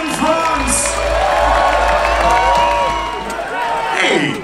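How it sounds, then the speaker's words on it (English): A crowd cheers and whoops at a medieval armoured knight combat event in Scotland, France against USA in five-versus-five fighting, a loud sustained roar with scattered shouts and clapping. "Both teams deserve a massive cheer."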